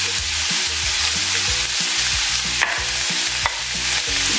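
Chicken breast frying in a pan for a vegetable spring roll (lumpiang gulay) filling, with a steady loud sizzle, rhythmic scraping stirs and a couple of sharp utensil clicks, no talking.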